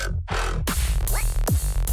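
A loud, heavy Serum synthesizer lead from a drop remake of a track, with harsh, buzzing tones and pitch sweeps, chopped into short bursts with abrupt gaps between them.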